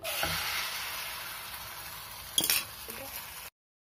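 An egg goes into a kadai with two spoons of hot oil, giving a steady sizzling hiss throughout, broken by one brief clink of utensils partway through.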